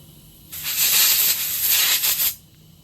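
Compressed air blasting gunk out of a hole in a 351 Cleveland engine block, one loud sharp hiss lasting about two seconds, close up, with quiet before and after.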